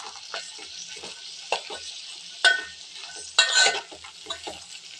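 Boiled mung beans frying with tomato and ginger in a pan hiss and sizzle quietly while a spoon stirs and scrapes in irregular, clattering strokes, with no voices.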